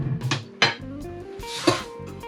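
A spatula mixes thick cultured-yogurt tzatziki in a bowl, making a few soft wet scrapes and two sharper knocks against the bowl, close and with no talk.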